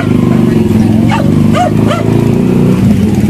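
Dog barking on a sidewalk, giving three short, fairly close barks in quick succession midway through over a steady background hum of street noise.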